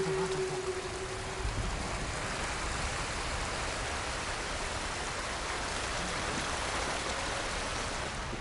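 A waterfall in Ghost of Tsushima pours in a steady, dense rush of broadband water noise that holds evenly for the whole stretch, with no voices.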